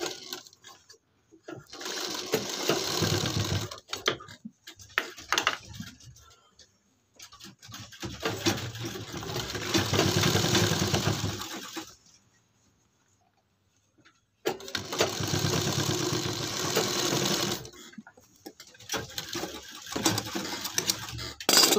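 A sewing machine runs in three long stretches while attaching a half collar onto a kurti, with a steady close whir and brief stops between, including one near-silent gap.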